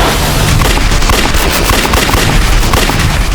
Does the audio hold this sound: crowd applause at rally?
no